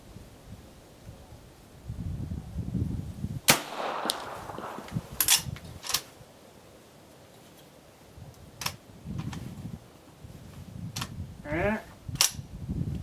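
Shots from an Original Henry lever-action rifle at a range, a few sharp loud cracks spaced several seconds apart with rustling and low handling noise between them, distant target distance of 100 and 200 yards.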